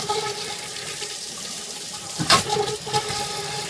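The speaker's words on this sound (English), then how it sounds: "And you just heard the air pounding through there." Trapped air is forced through home water pipes after a filter change, with steady rushing water and a brief loud surge and sputter partway through, nearby and without speech.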